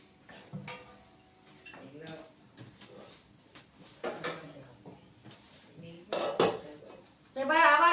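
A lid goes onto a pot of Bengali ridge gourd and moong dal vegetarian curry, a brief metallic clatter near the end, preceded by utensil clinks and a voice talking throughout.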